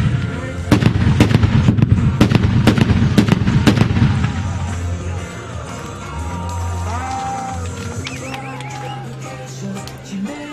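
Carbide cannons fired at a New Year's Eve celebration in Overijssel, a rapid run of loud, sharp booming shots in the first few seconds, then rumbling echoes fading under crowd noise and background sounds.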